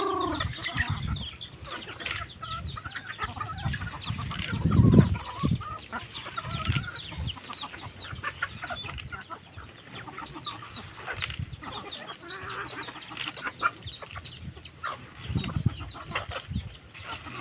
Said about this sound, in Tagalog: papakain na si William ng mga manok niya